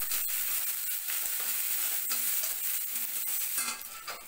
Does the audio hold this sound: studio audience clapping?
no